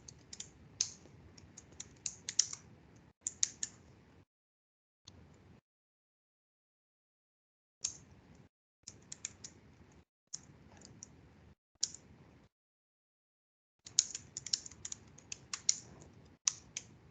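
Bursts of rapid typing on a computer keyboard while writing code, clicking keys coming in clustered runs separated by brief silent pauses, close and fairly quiet with no talking.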